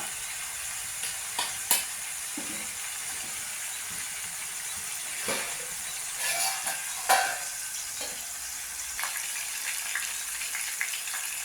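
Chicken and spiny gourd pieces fry in oil in a pan, giving a steady close sizzle with occasional sharper pops and the scrape of stirring now and then.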